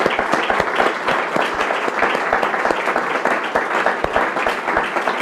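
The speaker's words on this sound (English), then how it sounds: "A special round of applause for" Audience applause at a lecture on the euro and Europe's common currency, steady dense clapping filling the hall for the full stretch without a break, loud and close.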